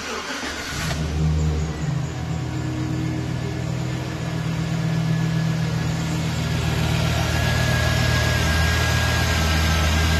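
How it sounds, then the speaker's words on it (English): A Chevrolet Silverado pushrod engine with about 800,000 km starts and settles into a steady, close idle with a low, even rumble that swells slightly toward the end. "let's go ahead and listen to the engine"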